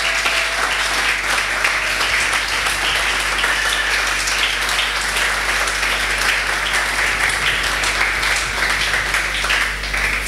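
A church congregation applauding steadily and loudly throughout, a dense, sustained wash of many hands clapping together with no pauses.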